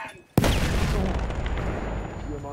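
Frag grenade explosion in Battlefield 1 during a house breach, a single sudden loud boom followed by a long rumbling roar and debris, close and heavy, with faint voices in the background.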